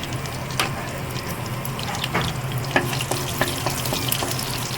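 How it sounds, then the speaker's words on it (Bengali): Whole cardamom, cloves, cinnamon and bay leaves sizzling in hot oil: a continuous crackling fry with scattered sharp pops and spits, close and moderately loud, no voices. "ফোড়নে নিয়েছি আমি কিছু এখানে গোটা মশলা, যেমন 3টে এলাচ, লং, দারচিনি, আর নিয়েছি 2টো তেজপাতা। তেলের মধ্যে দিয়ে দেব।"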